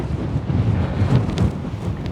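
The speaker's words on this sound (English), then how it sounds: "wind's really kicking up here" Wind gusts across a rally stage on Dalles Mountain in Oregon, buffeting the microphone with a steady low rumble that swells and eases, with no talking.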